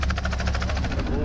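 A helicopter used to locate and dart rhinos chops steadily overhead, its rotor beating in an even, fast rhythm that sounds fairly close and loud throughout the short stretch.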